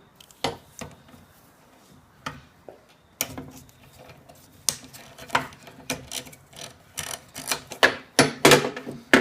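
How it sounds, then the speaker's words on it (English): A ratchet with a 1/2 inch socket clicks and clacks while loosening the carburetor bowl on a Briggs & Stratton Quantum small engine, coming in irregular loud bursts that grow busier toward the end. "Now I'll take this bowl off the carburetor bowl with a 1/2 inch socket."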